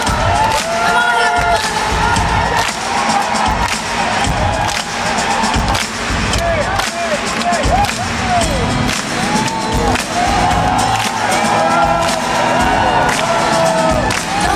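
A concert audience at a show claps and cheers loudly and continuously, dense crowd roar with whoops and shouts over amplified music.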